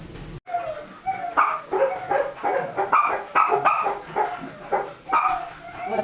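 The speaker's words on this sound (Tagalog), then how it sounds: "Ang mga aso." Dogs bark repeatedly in a busy, overlapping series of yips and woofs, fairly close and loud, with a brief whimper mixed in and no talking.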